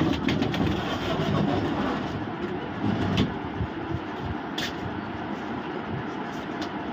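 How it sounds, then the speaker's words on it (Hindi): An electric sewing machine runs continuously while stitching a patch onto a kurti neckline, a dense mechanical whir that eases slightly partway through and stays fairly loud and close. "इस तरीके से हम यहाँ पर पूरे पैच में सिलाई लगा देंगे"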